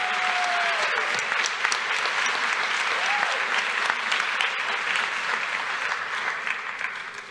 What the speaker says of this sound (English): One more round of applause, please, one more round.